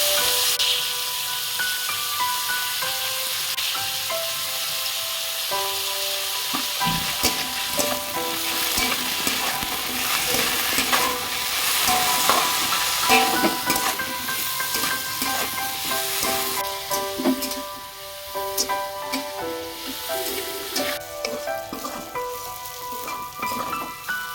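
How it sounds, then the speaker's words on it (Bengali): Radish and potato pieces fry in hot oil in a pan. A loud, continuous sizzle runs throughout, broken by frequent stirring scrapes close to the pan, and no one speaks. "মূল আর আলুটা ভালো করে ভেজে নিয়েছি"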